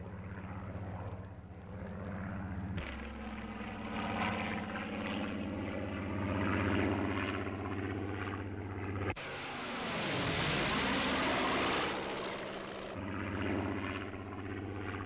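A Supermarine Spitfire 14 piston aircraft engine drones steadily with a deep propeller hum, rising and falling in pitch as the plane passes, loud and sustained with a sharp sweep midway.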